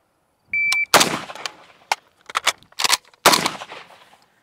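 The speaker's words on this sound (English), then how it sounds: "I'll shoot into the berm where I'm not worried about getting hits, and we'll see if we can speed it up even more." A Krebs Custom Mini Beryl AK rifle fires into a berm at an outdoor range: a short electronic beep, then several loud, fast strings of shots separated by brief pauses.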